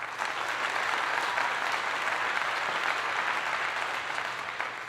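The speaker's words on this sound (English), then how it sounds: "Round of applause for that." Sustained audience applause fills a lecture hall, a dense steady wash of many hands clapping at full strength for nearly five seconds before easing slightly at the end.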